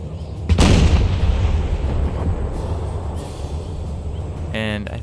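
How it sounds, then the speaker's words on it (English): Artillery fire in an Empire 2 multiplayer battle, a video game, with a loud boom near the start followed by a continuous rumbling din of distant cannon fire and battle noise, a voice faintly present beneath. "Saxon artillery is actually below the crest, so they can try and get a timed shell to hit right down on them"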